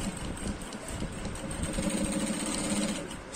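Sewing machine stitching agbada fabric, a steady mechanical whir with a rapid rhythmic needle pulse running continuously at close range.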